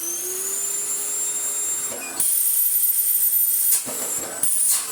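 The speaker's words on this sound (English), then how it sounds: "turn it on. It's on its lowest setting. Ever so quiet." An Electrolux Excellio Power Max Super Silence CleanStream Z5228 vacuum cleaner runs on its lowest setting with a steady airy hiss and a faint high whine, close and even, shifting slightly in pitch a few times.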